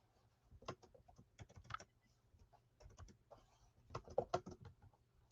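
Fingers tap on a computer keyboard in irregular bursts of quick clicks with short pauses between, close and quiet in an otherwise silent room.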